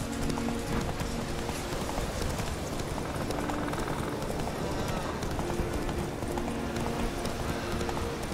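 Steady rapid hoofbeats of a galloping horse in The Witcher 3: Wild Hunt, continuous and fairly loud throughout, with a game-like ambient bed underneath.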